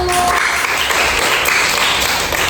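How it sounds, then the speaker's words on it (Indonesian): Classroom students applaud a presenting group, giving dense, continuous clapping that is loud and close with no speech over it. "Beri tepuk tangan untuk kelompok 1"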